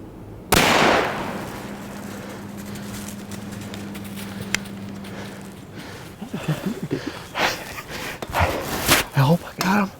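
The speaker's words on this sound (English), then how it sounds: "Should I shoot it?" A loud, close rifle shot fired at a big buck during a late-season deer hunt booms once and decays, followed by hushed, breathless talk and rustling.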